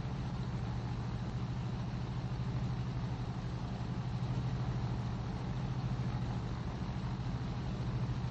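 Twin engines of an RO-57 fighter of the Italian Air Force in IL-2 1946, a steady, droning engine hum holding constant throughout with a low pulsing throb, no voices.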